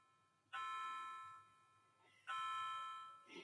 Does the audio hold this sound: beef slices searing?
no